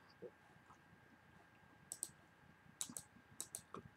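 Computer mouse clicks while selecting a hi-hat track in Cubase music software: faint, sharp clicks in small clusters over a low background hum, quiet and close.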